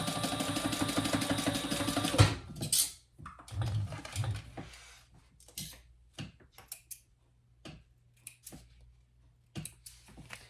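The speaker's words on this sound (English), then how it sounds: "we're going to just sew those along at the seam allowance pattern" Sewing machine stitching the seams of a hip bag lining, a fast steady mechanical whirr of needle strokes for about two seconds, then scattered clicks and handling of fabric.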